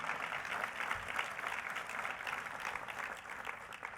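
Steady applause from a community luncheon audience fills the whole stretch, a dense wash of clapping at even loudness with no pauses.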